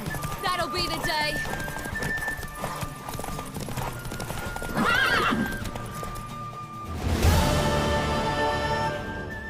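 A mare in The Witcher 3 whinnies and snorts over clip-clopping hooves, with a second loud neigh later, set against game music and ambience; voices speak at times.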